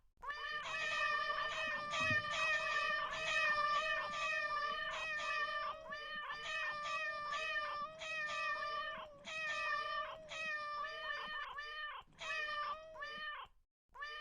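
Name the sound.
audience imitating cat meows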